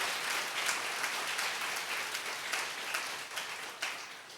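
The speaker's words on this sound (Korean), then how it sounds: "우리 박수 한번 쳐줘" A church congregation applauds during a Sunday worship service, a dense, steady wash of clapping from many hands that carries on without a break and with no voices over it.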